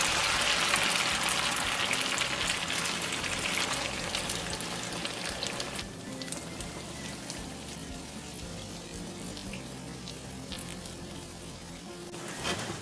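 Beaten egg hitting hot oil in a frying pan over medium heat for a Spanish tortilla gives a loud, steady sizzle and crackle that eases to a quieter frying hiss partway through.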